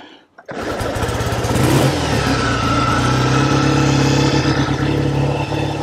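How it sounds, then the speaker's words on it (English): A 1948 Triumph T100 Tiger 500cc motorcycle engine catches and runs, a steady close throbbing idle with the revs rising and settling over several seconds. "1948 500cc Triumph T100, and I'm going to see if I can get it to start first."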